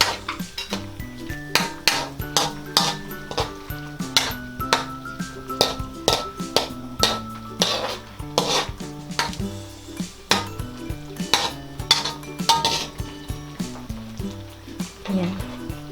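Beef with broccoli and oyster sauce stirred in a pan, a utensil scraping and clinking repeatedly against the metal in an uneven rhythm, close and clear, under a steady melodic background and light sizzling.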